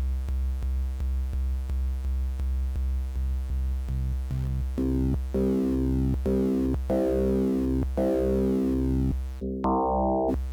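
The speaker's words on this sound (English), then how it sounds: "now we've got a pure-ish sine wave" A series of steady sine tones from an FM synthesizer (Yamaha YM2612 chip) played note by note, pure and humming, with pitches stepping around like a simple synth melody.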